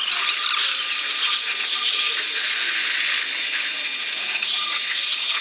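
Water spray rinses a car wheel and tyre, a steady hissing rush of high-pitched splashing that runs without a break across the whole stretch, loud and close, with no talking over it.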